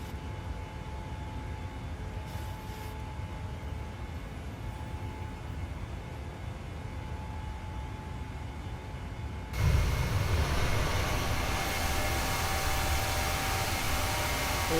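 Simulated PMDG Boeing 737-800 takeoff roll in Microsoft Flight Simulator: a steady broadband roar of engines and runway rumble, suddenly swelling louder near the end as thrust and wind noise build.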